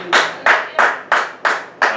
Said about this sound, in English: let's give Yeshua a hand clap of praises